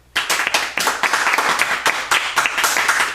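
Audience at a one-month course valedictory ceremony breaks into loud, sustained clapping that starts abruptly and continues steadily throughout, close and dense.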